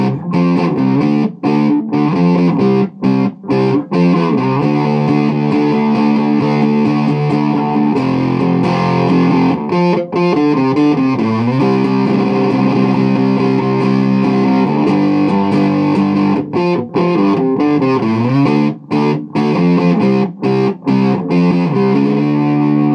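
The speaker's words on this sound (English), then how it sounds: "so this with a big muff pedal, you can kind of get the sort of stoner rock sort of sound" Electric guitar, a pink Strat, played through a Big Muff distortion pedal for a thick, fuzzy stoner rock tone; loud sustained chords and riffs with brief stops, heard alone without talk.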